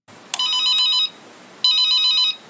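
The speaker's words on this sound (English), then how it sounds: "Exclusive phone call from Joe Judge" A telephone rings for an incoming call, two clear electronic ring bursts about a second each with a short gap between them, loud and close with no talk.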